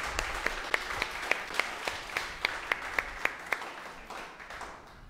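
A church congregation claps during a worship service, sparse and fairly quiet, with distinct individual claps in a loose, irregular rhythm that thins out toward the end.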